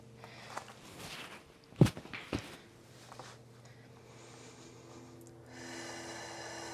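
During a Pilates flow, a few quiet, deep breaths come through, including a sharp nasal inhale early on and a long, soft exhale toward the end.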